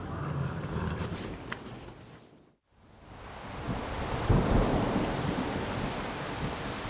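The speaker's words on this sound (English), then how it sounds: "A third day of heavy rain means another cancellation and even more headaches for the race directors." Heavy rain pours down steadily with rolling thunder rumbling through it, a brief dropout of near silence midway before the downpour swells back louder, with no voices present.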